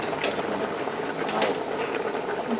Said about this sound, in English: if you're using a small stove like this, then you'll need to boil the water before